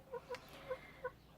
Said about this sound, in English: If you hear a chicken in the background around about now, that's my little chicken.